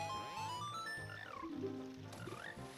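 Frogs in Zelda: Ocarina of Time give a quick series of croaks along with sliding, warbling musical tones, played back fairly quietly in the game's audio.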